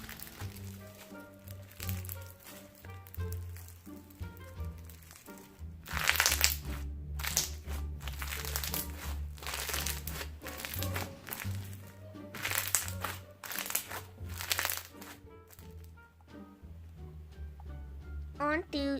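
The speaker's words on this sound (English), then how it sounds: "I'm just gonna stop talking so you guys can hear the crunch" Crunchy slime being squished and crunched by hand, repeated crackling crunches in irregular bursts that grow denser midway, beneath soft background music and without talk.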